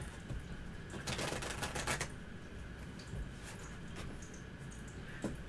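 Tarot cards shuffled by hand give bursts of quick papery riffling and flutter, close and fairly quiet, with short pauses between shuffles.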